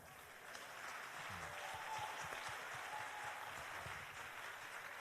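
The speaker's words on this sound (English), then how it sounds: "I think that statement deserves to be applauded." Audience at a 2019 national youth summit in Owerri clapping steadily, a dense wash of applause that swells and holds, with some faint voices in the crowd.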